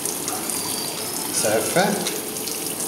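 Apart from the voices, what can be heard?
water running from tap at McDonald's washbasin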